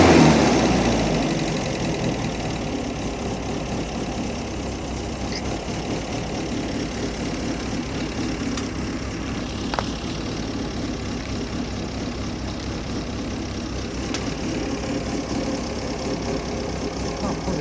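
An MGB autocross car's engine settles from revving back down to a steady idle, a low, even, close running drone that holds for most of the stretch with little change.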